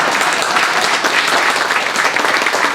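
An audience at an event at Eldheimar in Iceland breaks into loud, close, continuous applause, many hands clapping in a thick, even patter with no voices standing out.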